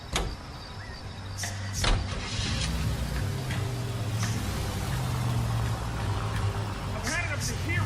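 A Nash car in L.A. Noire rumbles as its engine turns over and settles into a steady low hum, with a few sharp mechanical clicks early on and voices talking over it.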